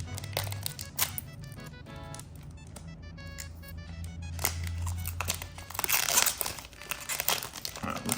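A One Piece trading card pack gets ripped open: sharp crinkling of foil wrapper, bursts of tearing and handling noises, close and irregular with no voices.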